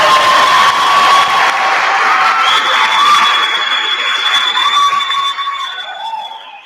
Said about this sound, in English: Audience, let's applaud that.